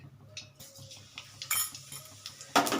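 Clinks and scrapes of a utensil against a pan as black cumin goes into a little hot oil with frying kajli fish, soft sizzling underneath and a sharper metallic clatter near the end.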